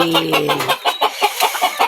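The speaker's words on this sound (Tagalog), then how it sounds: "Ito namang organic namin na manok na ito." Chickens clucking close by in a quick, uneven run of short calls, fairly loud, with a low steady hum under the first part.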